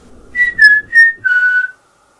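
A person whistles a short four-note tune, clear and close, then falls silent.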